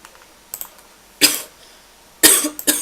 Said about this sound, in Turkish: Kusura bakmayın öksürdüm.